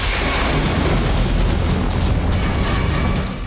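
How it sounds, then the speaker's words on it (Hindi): A deep, sustained rumbling roar of a Russian Kinzhal missile explosion in Kyiv fills the whole clip, loud and continuous like the drawn-out aftermath of a heavy blast, with no voices. "कीव में जोरदार धमाका हुआ। यह रूस की किंजल मिसाइल थी।"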